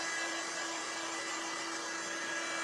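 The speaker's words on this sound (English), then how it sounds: "I've got a different dryer," A quieter hand-held dryer blows on a lace tray craft project, a steady close whirring hum with a faint tonal whine, unchanging and alone.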